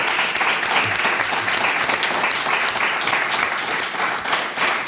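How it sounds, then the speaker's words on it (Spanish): Dense, continuous applause from a large audience fills the room, steady and loud from start to finish, with no pauses. "Yo lo único que os pido es un aplauso para estos días."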